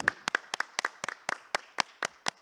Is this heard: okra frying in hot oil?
no